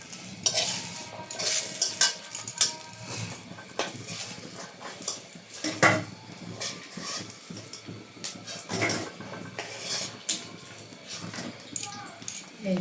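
Fried flower fritters being lifted out of a sizzling pan, with repeated scraping and clinking of a utensil against metal over a steady frying hiss, close by while someone talks.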